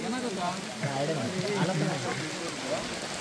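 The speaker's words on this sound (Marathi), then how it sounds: "कारण पाऊस खूप पडतोय आता" Heavy rain pours down around a cricket ground where spectators crowd under shelter, a steady dense patter running throughout beneath people talking nearby.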